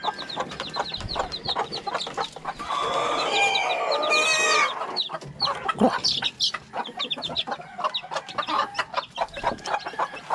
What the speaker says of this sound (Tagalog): Patukin na natin itong mga sisiw. May mga sisiw rin dito.